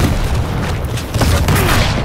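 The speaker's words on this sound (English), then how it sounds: "Yep, rockets." Rocket explosions in the Quake Champions beta, heavy booming blasts rolling together into a loud, dense rumble with little pause between impacts.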